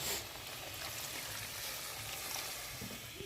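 Spiced jackfruit curry with potatoes in a pan, sizzling steadily as water is poured in, a soft continuous frying hiss at low level with no talking.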